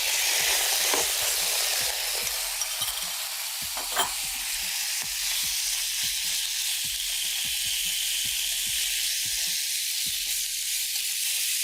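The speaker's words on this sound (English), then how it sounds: "So we're going to add this into a heated pan and allow that to cook." Chicken sizzles in a heated pan with a continuous close hiss, accompanied by a rapid series of light ticking pops and spatters throughout, fairly loud with no voices.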